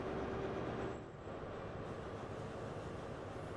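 HST high-speed diesel train running steadily in a train simulator game on the Edinburgh to Kings Cross route, a continuous close rumble and rail drone with no talk over it.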